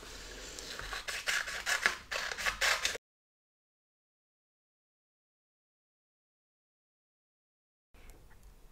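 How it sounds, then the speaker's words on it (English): Scissors snipping through paper while cutting out rectangles for a fine motor craft, a quick run of close crisp cuts for about three seconds, then silence before faint rustling returns. "So I'm going to start cutting out"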